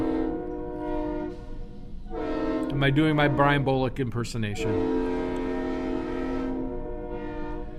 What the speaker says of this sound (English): As our train goes by the studio.